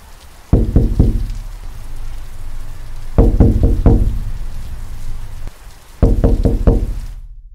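Three clusters of rapid hollow knocks on a lighthouse's walls, each a quick burst of three or four hits with short ringing decay, separated by pauses, close and fairly loud over a faint background hiss.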